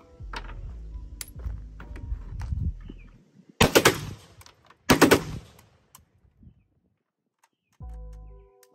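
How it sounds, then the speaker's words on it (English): A Hellpup pistol bump fired, with two loud rapid bursts of shots after softer handling noise, followed by quieter clicks and a brief tone. "As y'all can see, I bump fired a little bit."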